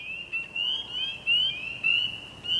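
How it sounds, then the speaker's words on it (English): Repeated high, thin chirping calls from frogs at night by a road, several short bursts overlapping at a steady rhythm against a quiet background. "You hear all those frogs chirping?"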